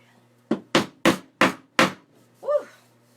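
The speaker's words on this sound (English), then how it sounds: "I need to get a hammer to hammer this one in that's sticking up." Five sharp hammer blows drive a nail into a wooden Home Sweet Home sign, evenly spaced and close, followed by a brief ringing metallic scrape.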